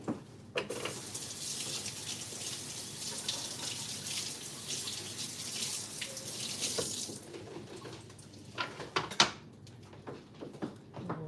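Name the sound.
water running from a tap while washing food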